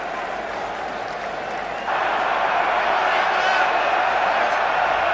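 Rugby stadium crowd at the 2003 World Cup quarter-final, England vs Wales in Brisbane, standing and applauding the Welsh team. A broad, steady wash of distant clapping and cheering swells louder partway through, with a commentator talking over it.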